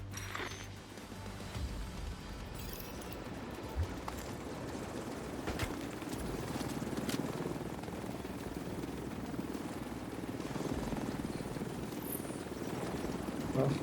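A helicopter flies in a video game, a steady whirring rotor drone that fills the whole stretch, loud and constant, with scattered game noises layered on top.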